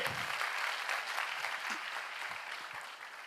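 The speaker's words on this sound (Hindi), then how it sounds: "ताली बनती है ना" An audience claps at an award event for a digital payments company, a brief burst of moderately loud applause that thins and fades over a few seconds.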